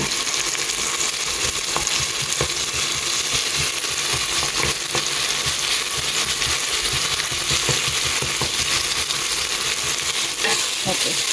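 Green chili and ginger garlic paste fry in a pan with a steady, close, hissing sizzle that never lets up, broken now and then by faint scrapes and clicks of stirring.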